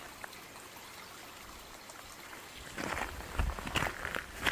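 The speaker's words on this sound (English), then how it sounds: "And this is Schwartz Creek burbling beneath the road here." Schwartz Creek in the Oregon Coast Range burbles beneath a road, a soft, steady trickle of flowing water, with louder nearby crunching steps or handling noises toward the end.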